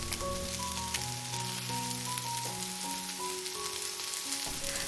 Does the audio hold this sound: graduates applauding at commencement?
no